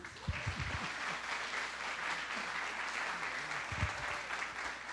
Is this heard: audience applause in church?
yes